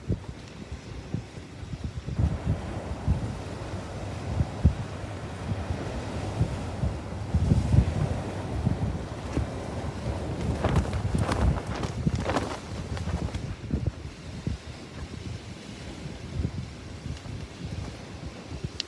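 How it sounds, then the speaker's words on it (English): Strong wind buffets the microphone on a seashore, with broadband roaring gusts mixed with surf and waves, loud and continuous throughout, swelling around the middle. "This is why there's no one coming down here, because of the wind."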